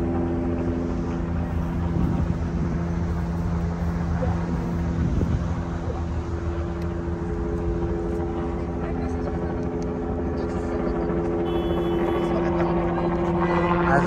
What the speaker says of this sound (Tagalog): Palagi may helicopter dito.